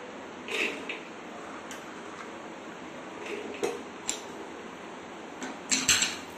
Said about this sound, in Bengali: আমি ছোলাগুলোকে প্রেশার কুকারে দিয়ে দিচ্ছি